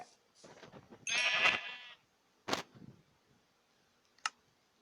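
A Minecraft sheep bleats in a short wavering burst among a few quiet clicks and game sounds, with soft noise before and sharp ticks after.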